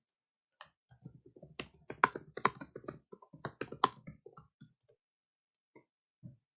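Keys clatter on a computer keyboard in a quick burst of close, crisp taps that slows to a few scattered presses.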